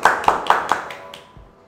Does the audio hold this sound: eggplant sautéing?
no